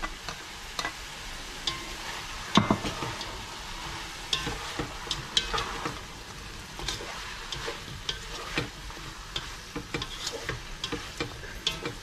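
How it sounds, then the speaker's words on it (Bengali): Fried chicken and prawn stir-fried in a pan, a soft steady sizzle with frequent sharp clinks and scrapes of a utensil against the pan, fairly quiet and without talk. "এটাকে এখন আমি এই যে চিকেন আর প্রন ভাজাটা দিয়ে দিব।"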